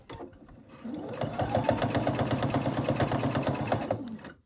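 A sewing machine stitches a microwave bowl cozy in one quick steady run of rapid mechanical whirring and clicking, close and clear, starting and stopping cleanly.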